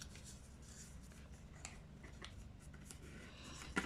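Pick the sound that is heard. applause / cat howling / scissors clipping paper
scissors clipping paper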